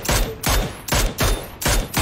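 Gunfire in the PUBG video game: rapid bursts of shots repeating in roughly four quick, loud clusters, with no talking.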